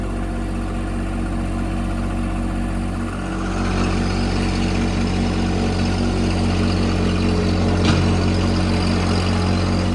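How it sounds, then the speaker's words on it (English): A 25 hp diesel compact tractor engine idles steadily nearby, its rumble rising a little partway through as the loader hydraulics work, with no talking. "I've idled it up a little bit, and I'm just playing with loader function."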